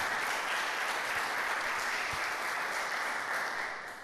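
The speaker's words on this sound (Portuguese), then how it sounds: "Você pode aplaudir o Senhor pela vida dela." An evening church congregation applauds in a continuous, even wash of clapping that stays steady and then fades slightly at the close.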